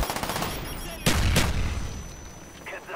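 An Uzi submachine gun in Black Ops fires a rapid, loud burst of automatic gunfire, followed by a heavier blast and further shots fading away, with a voice talking over the action.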